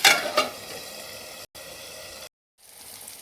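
Stuffed green chillies fry in masala and oil in a pan, a steady soft sizzle with a louder burst at the start as the lid goes on, then brief gaps of near silence.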